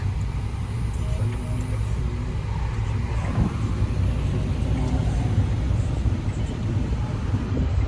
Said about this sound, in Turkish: trafik böyle.